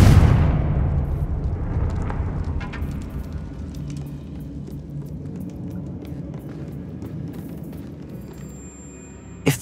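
The Confringo fire spell in Hogwarts Legacy bursts with a loud booming blast at the start, then a rumbling, crackling decay that fades over several seconds, with a small sharp impact near the end.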